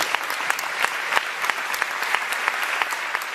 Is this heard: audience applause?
yes